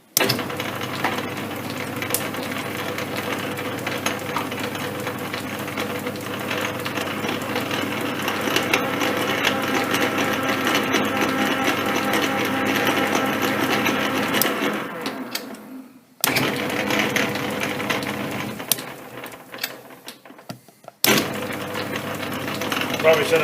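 A Bridgeport milling machine runs steadily with a dense mechanical whir and rhythmic clatter. It cuts out abruptly near the end, then briefly restarts.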